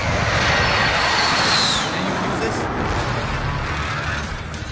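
An airstrike aircraft flies over in the video game Call of Duty Warzone, a loud, dense, steady roar that fills the whole clip, with faint speech mixed underneath.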